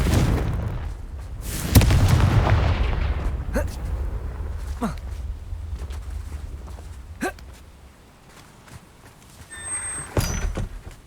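A Confringo blasting spell explodes in Hogwarts Legacy with a single heavy boom and rumbling tail. Scattered dull thuds and quiet game ambience follow.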